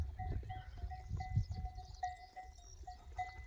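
Sheep graze in tall, wet grass, making soft close cropping and rustling sounds while faint metallic bell tones ring on and off in the background.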